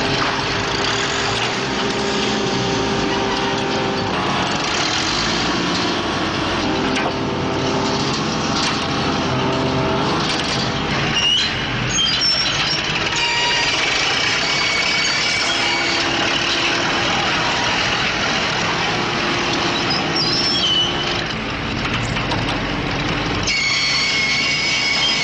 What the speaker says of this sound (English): Using a 600 horsepower crane, could they lift the rock?